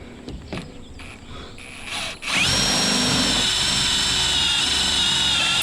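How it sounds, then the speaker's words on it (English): A step drill bit bores holes in the metal light bar of a Jeep Gladiator, a loud steady high-pitched drilling whine that starts after a few quiet clicks and handling noises and keeps grinding on alone. "I'll drill 2 5/8 holes, one at the top and one at the bottom."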